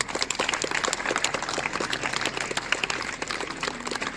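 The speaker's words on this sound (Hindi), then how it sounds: "एक बार जोरदार तालियों से सभी का स्वागत है।" Audience applause at a children's youth parliament event at a school, dense steady clapping from a crowd lasting the whole stretch at moderate loudness, with no talk over it.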